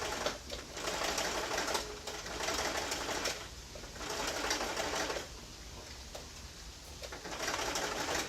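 A sewing machine back stitches welt onto a slipcover in short bursts of motor whir separated by pauses, fairly quiet and close.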